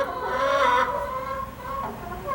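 A broody hen clucks close by, a drawn-out throaty grumble followed by a softer second murmur, with nothing else over it.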